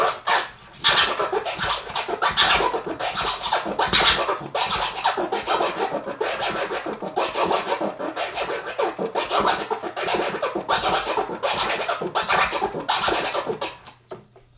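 Rapid, dense turntable scratching with a baby scratch leading into each fast chirp-like pattern, a near-continuous stream of raspy scratch strokes at steady loudness that tapers off at the end.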